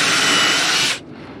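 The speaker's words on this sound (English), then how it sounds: "I don't want to drill all the way through both" A power drill bores through stacked wood pieces with a loud, close, harsh whirring grind, then cuts off abruptly after about a second, leaving a low fading hum.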